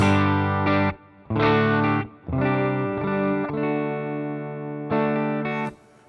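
Clean electric guitar played through an HX Stomp XL into a Princeton speaker with a touch of reverb, ringing out several sustained chords in separate strums with short gaps, close and loud with no talking.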